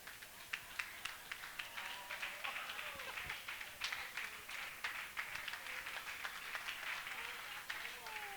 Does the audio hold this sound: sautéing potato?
no